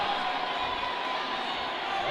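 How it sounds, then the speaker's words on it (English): A large crowd roars steadily and fills the space at a roller derby bout between Switzerland and the Philippines at the 2018 Roller Derby World Cup, cheering without letup throughout. "And listen to that crowd."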